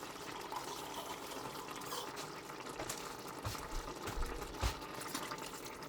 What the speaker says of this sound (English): I'm going to add a little bit more water to that